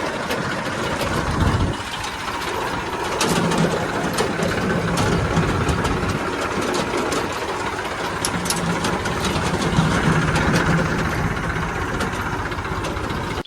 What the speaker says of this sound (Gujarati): તો ચલો ફટાફટ ગેસ ટ્રેક્ટર લઈને નીકળીએ આપણે ખેતર બાજુ